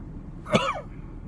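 A single short, sharp sneeze, fairly faint and quick, bursts out once over a quiet background.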